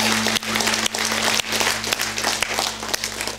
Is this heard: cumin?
no